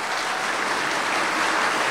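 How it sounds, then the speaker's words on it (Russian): Loud, dense applause from a large audience of Russian schoolchildren at a question session, a steady broadband roar of many hands clapping that holds evenly for about two seconds without voices. "Вот тут громкие аплодисменты."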